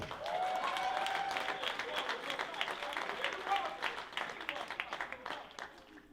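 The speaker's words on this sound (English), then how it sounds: "Clap if you want to clap." Crowd applause at a stand-up comedy show, dense clapping that starts strong and gradually thins into scattered claps, with faint voices mixed in.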